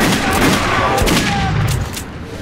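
Gunfire rings out in the video game Metro 2033 Redux as loud, dense bursts of shots overlap with rumbling impacts and chaotic combat noise, with shouting voices mixed in.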